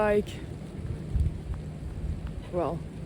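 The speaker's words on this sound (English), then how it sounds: "I'm outside in the rain." Steady rain patters beneath low rumbling, with brief voice-like bursts at the start and near the end.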